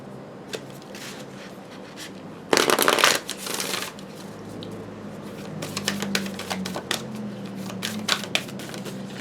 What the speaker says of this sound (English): we're going to pull one more card